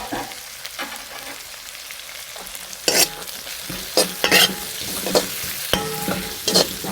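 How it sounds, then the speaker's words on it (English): Rice frying and being stirred in a pan for a vegetable cook-up, a steady sizzle under repeated sharp scraping strokes of a spoon against the pan. "Fry the rice"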